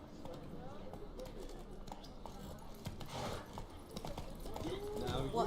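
Hoofbeats of Roach, Geralt's horse in the video game The Witcher 3: Hearts of Stone, trotting in a steady clip-clop rhythm at moderate loudness under game sounds and someone talking.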